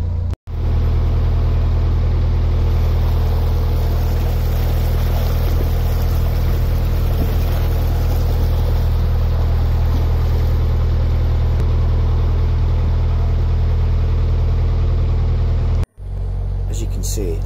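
A narrowboat engine chugging steadily as the boat cruises downstream on a calm river, a constant close low rumble with a faint water wash, broken by brief dropouts near the start and end.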